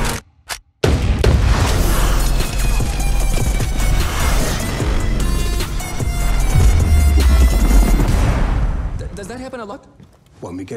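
Gunfire and explosions from the Just Cause 4 video game trailer, heavy booms and dense rumbling blasts layered over music, loud and continuous, with a voice speaking near the end.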